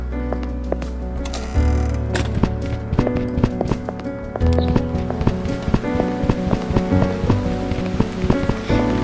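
Heavy rain pattering and drumming on surfaces nearby, dense and continuous, with sharper drips and knocks scattered throughout.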